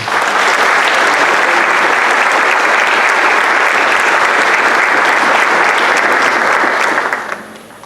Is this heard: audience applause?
yes